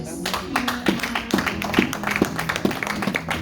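Church congregation clapping in praise of Jesus, a rhythmic, evenly spaced beat of hand claps under voices, moderately loud and steady throughout.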